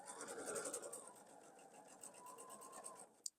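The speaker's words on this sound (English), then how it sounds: "This one I'm going to sew the length of this piece. I'm going to go nice and slow, pulling on my pins as I go." A sewing machine stitches quilt block pieces slowly, its needle running in a steady, close, fairly soft mechanical whir that ends with a sharp click.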